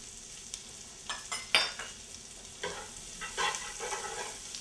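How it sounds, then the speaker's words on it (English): Fennel, garlic and shallot sauté in a pan, a soft continuous sizzle broken by several stirring scrapes and louder bursts of frying, close up with no voices. "Just want to saute this for about 2 minutes just to get a little wilt on them."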